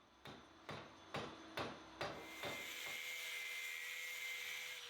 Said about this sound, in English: hitting the Beyblade with a hammer